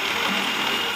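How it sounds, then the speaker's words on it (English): A food processor whirs steadily and loudly as it blends spinach and eggs into a smooth mixture, a continuous close mechanical drone with no voices. "into my food processor, I'm putting 160 grams of our spinach, 2 eggs, and we're just going to whiz that up until it's nice and smooth"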